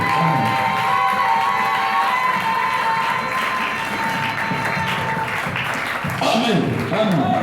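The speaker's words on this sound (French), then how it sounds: "Acclamez le Seigneur Jésus" During a Sunday church service, the congregation breaks into sustained clapping, cheering and shouted acclaim, a loud crowd roar with voices calling out over continuous applause.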